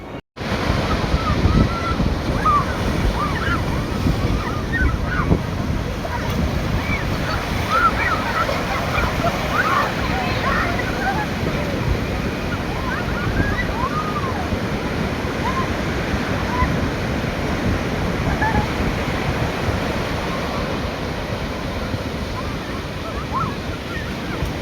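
Sea waves surge and crash onto the shore at Baliapal, Balasore, after three days of heavy rain, a continuous loud roar of surf buffeted by strong wind noise on the microphone, with no clear speech.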